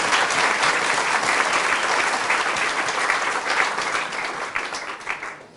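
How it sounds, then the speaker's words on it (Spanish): A church congregation gives loud, sustained applause to Jesus during a Spanish-language sermon, a dense continuous clatter of many hands that fades toward the end. "Fuertes aplausos al Señor Jesús."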